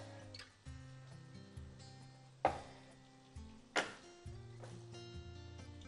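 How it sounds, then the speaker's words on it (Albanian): A knife cuts tomatoes in half on a board in a home kitchen, making a few sharp, separate chops at irregular intervals. Quiet background music plays underneath. "Tek domatet që un kam, do t'i pres"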